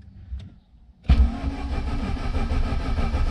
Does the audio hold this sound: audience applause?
no